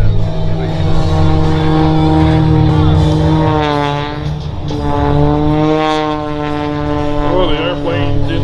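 An aerobatic airplane's propeller engine drones loudly and wavers in pitch as it strains through a tumbling maneuver at an air show, continuous and near, with announcer talk over it.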